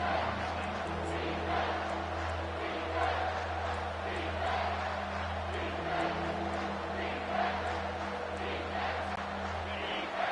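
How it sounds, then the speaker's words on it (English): Home crowd noise from a college football video game on third down against Alabama, a dense, steady roar of cheering fans sustained at even volume throughout. "Here comes this home crowd as the defense tries to get off the field on third down."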